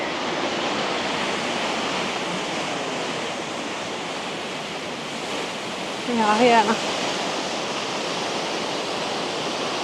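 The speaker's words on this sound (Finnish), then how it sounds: "Seuraava pysähdys käydään katsoa tämmönen vesiputous, mikä tässä tämmöisellä levähdysalueella kanssa on vieressä." A waterfall beside a roadside rest area in Norway rushes in a steady, broadband hiss of falling water, with a brief spoken remark partway through.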